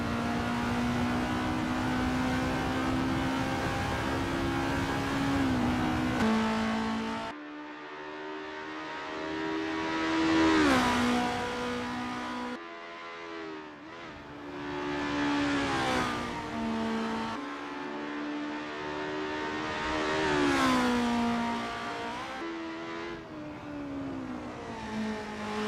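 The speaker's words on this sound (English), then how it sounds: "Renault 99 is on their practice out lap." A formula race car in the Assetto Corsa video game snarls through a practice out lap at Mont Tremblant. The engine note climbs and drops repeatedly through gear changes, loud and sustained with brief lifts between rising revs.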